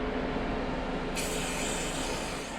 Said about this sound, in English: I like to use the spray grease stuff.